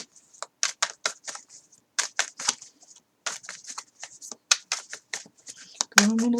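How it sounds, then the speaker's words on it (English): A tarot card deck is shuffled by hand in a quiet room, producing quick bursts of crisp riffling and flicking card sounds separated by short pauses, with a louder thump at the end. "Did have a couple fall out while I was shuffling"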